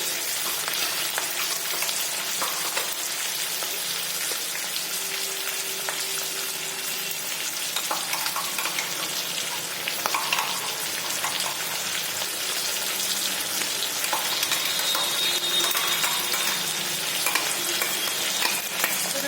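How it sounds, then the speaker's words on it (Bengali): Ginger-garlic paste frying with chicken and capsicum in a hot pan, a steady close sizzle with stirring and scraping throughout, no voices. "এবার এতে আদা রসুনের পেস্টটা দিয়ে দেবো।"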